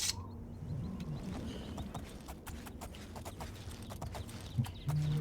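Steady clip-clop of horse hooves at a walking pace in the video game The Elder Scrolls IV: Oblivion, moderately close, over a low background rumble with a few sharp clicks.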